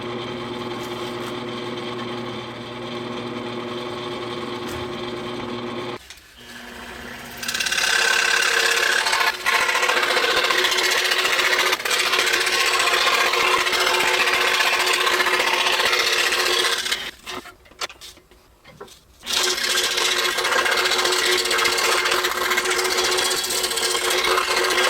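A power saw cuts rings out of a wooden board, a loud sustained buzzing whine that runs in long passes, with a brief pause between cuts and a quieter motor hum at the start.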